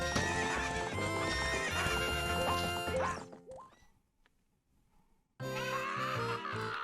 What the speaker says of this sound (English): What's up with that horse? Is that Epona? How did you tame that wild horse right under my nose?